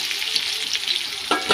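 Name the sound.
potatoes frying in a pan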